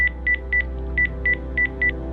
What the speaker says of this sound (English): Alright, I'm dialing.